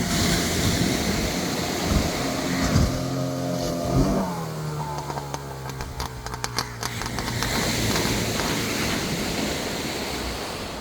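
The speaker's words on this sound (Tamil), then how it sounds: "ஒரு போட் ஒன்று வருது பாருங்கள்" A boat's motor drones and shifts pitch as it approaches Manganai beach in Batticaloa, set against constant surf and wind noise, loud and near throughout.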